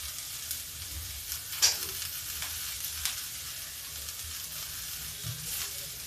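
Small pieces of chopped potato fry with onions in a pan for a dry black-eyed pea curry, giving a soft, steady sizzle broken by a few utensil clinks and scrapes, with no talking.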